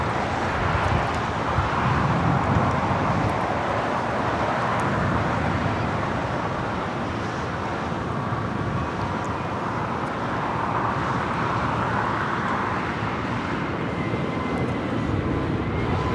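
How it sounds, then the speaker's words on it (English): A Spirit Airlines A320neo takes off at LAX, a sustained broadband jet roar heard from a distance, steady and rumbling throughout with wind noise on the microphone. "Next takeoff, Spirit Airlines flight 520 heading to Detroit, Michigan,"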